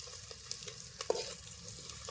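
Garlic and whole spices such as bay leaf frying in oil for Agri-style mutton, a soft low sizzle with a few light clinks and stirring knocks, fairly faint and with no voices.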